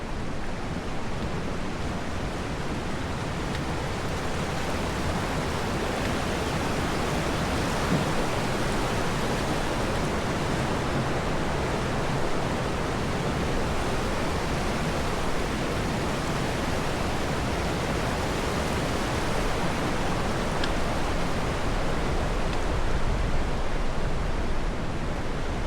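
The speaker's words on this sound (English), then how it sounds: "Crossing Tuolumne River right now." The Tuolumne River rushes along the Pacific Crest Trail near Tuolumne Meadows, a loud, constant broadband roar of flowing water that holds steady for the whole span without voices.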